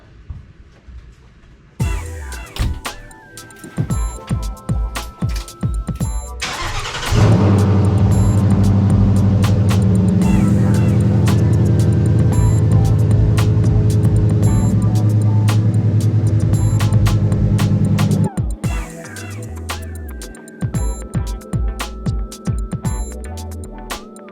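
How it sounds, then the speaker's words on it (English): A 1962 Ford F100 unibody pickup starts up close by after some clunks and handling noises, then idles and runs loudly and steadily for about ten seconds before cutting off, followed by more scattered knocks. "I'm gonna pull the truck out real quick"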